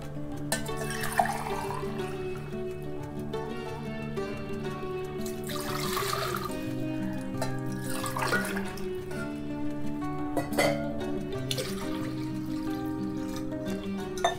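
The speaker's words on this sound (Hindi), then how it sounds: "दो ग्लास पानी।" Water poured steadily into a metal pressure cooker for rice, a continuous splashing gush with a ringing tonal hum underneath, fairly close.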